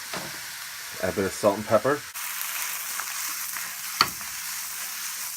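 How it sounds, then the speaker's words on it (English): Onions and mushrooms sautéing in plenty of hot oil over high heat give a steady hiss that fills the background, with a short spoken line over it early on and a sharp clatter near the end. "Saute that on high heat for a bit"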